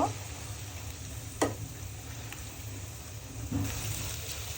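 Chopped onion fries in a pan for a pabda fish curry, giving a steady low sizzle with a few sharp clicks from the spatula, close and moderately quiet, with no voices.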